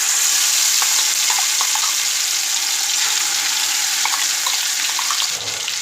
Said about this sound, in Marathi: आता जो आपण हे मसाला तयार करून घेतलेला आहे तो लगेच यामध्ये घालूयात तेल देखील आपलं चांगलं गरम झालेलं आहे